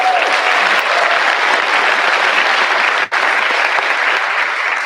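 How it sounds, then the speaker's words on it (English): A crowd at a high school graduation ceremony claps loudly and continuously, a dense sustained burst of applause with a brief dip near the end. "Let's give her a round of applause."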